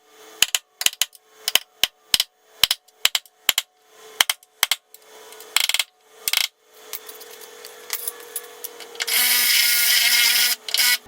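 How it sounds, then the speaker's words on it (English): A center punch taps steel spot welds on an Evo 8 chassis, sharp metallic taps ringing out one after another at an uneven pace, close and crisp, followed by a steady whirring hiss near the end. "I'm going to grab the hole punch again and just punch the centers of these."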